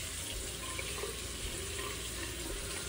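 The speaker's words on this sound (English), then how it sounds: "so let's run some water so we have some warm water." Water gushes steadily from a tap into a sink, a constant broadband rush with no voices, close by.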